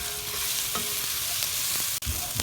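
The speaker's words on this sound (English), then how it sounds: "the olive oil, which is going to allow me to fry up these foundation vegetables" Onions, ginger and garlic frying in olive oil for a simple daal, a steady close sizzle with light stirring scrapes and one brief dropout near the end.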